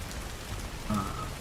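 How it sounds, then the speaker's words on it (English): Rain falling in the survival video game Soulmask, a steady soft hiss of rainfall with a faint higher tone near the end, no voices. "But it's raining too, so it will put the fire out."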